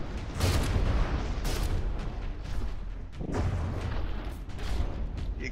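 A lifeboat-mounted gun fires in a naval battle video game, booming shots arriving in separate bursts, a heavy rumbling volley followed by a pause and another round of blasts.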